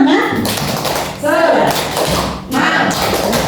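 A group of adults in a teachers' training session claps the rhythmic 'tepuk semangat' cheer pattern, bursts of patterned clapping mixed with loud speaking voices and chanting throughout.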